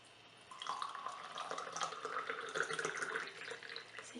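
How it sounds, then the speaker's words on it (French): Boiling water poured into a cup or teapot over verbena leaves to brew herbal tea, a steady trickling splash lasting several seconds, close and moderately quiet. "préparer un peu de verveine, de me détendre un peu, que voici, avec un peu d'eau bouillante"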